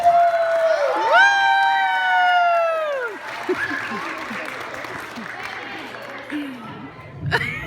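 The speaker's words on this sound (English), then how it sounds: "So let's give a round of applause to Mr." Children and adults at a storytime reading cheer and whoop for Mr. Bunk, with rising and falling excited voices leading into scattered clapping and crowd chatter that fades toward the end.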